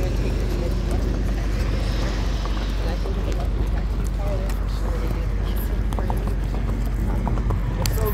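Hooves clop steadily at a walking pace on the ground, with a person talking over them and some background noise.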